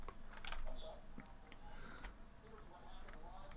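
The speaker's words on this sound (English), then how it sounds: "again, I'm just typing in random numbers." Computer keys clatter as numbers are typed into a PowerPoint table, scattered light clicks in an irregular rhythm, with a voice speaking at times.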